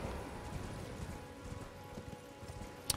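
Steady clip-clop of horse hooves trotting over a hard surface in the video game Elden Ring, with a game-like ambient backdrop and no talking.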